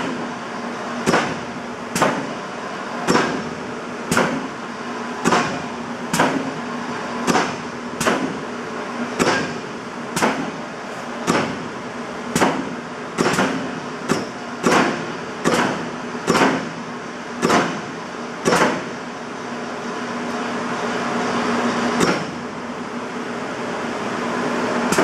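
A 1997 300-ton Bliss BG gap frame press in a warehouse, cycled in inch mode: a steady mechanical hum with loud, evenly spaced clunks about every second, around twenty strokes in a row, then a single final thump.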